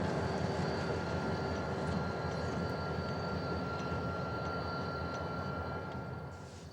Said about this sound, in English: After the conductor throws the switch, the power heads east on the main line and stops again.